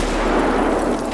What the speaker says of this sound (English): The grenade's coming down.